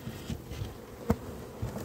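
Honeybees buzzing at an opened spring hive during a frame inspection, a soft continuous drone with a few nearer bees passing close, plus one brief knock, and no talking.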